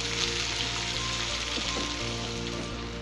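A small chopped onion sizzling steadily in hot oil in a pan, a loud, continuous close frying hiss with faint stirring underneath and no voices.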